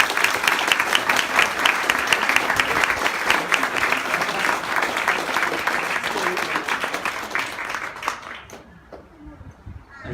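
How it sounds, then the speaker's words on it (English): Audience at the official opening of a Pete Martin art exhibition breaks into a loud, sustained round of applause lasting about eight seconds before dying away, with faint voices as it fades. "to give Pete a huge round of applause."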